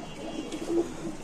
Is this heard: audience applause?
no